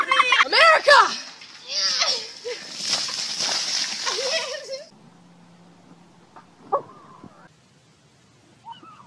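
Ice water from a bucket dumps onto a person in one heavy sloshing splash with a splatter tail. Excited voices shout over it, and quieter rustles and talk follow.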